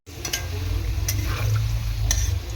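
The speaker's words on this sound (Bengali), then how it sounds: "আলুটা আরেকটুখানি ভেজে নেবো" Potato slices fry in a pan while being stirred: a loud, continuous close-up sizzle with a few light scraping ticks from the spatula.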